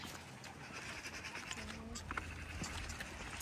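Goats bleating on a city farm, a few short calls standing out over a steady outdoor background with some nearby movement, fairly faint and close.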